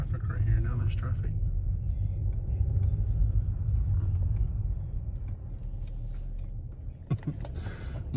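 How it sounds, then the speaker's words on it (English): Road traffic rumbles past at close range, a steady low vehicle roar that swells and fades, with a sharper knock near the end and people talking over it. "Now there's traffic."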